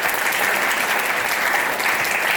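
Classroom applause for a student at a college, a steady burst of dense clapping from a group, close and even throughout, with no talk.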